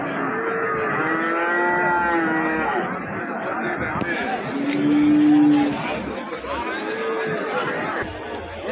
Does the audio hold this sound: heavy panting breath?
no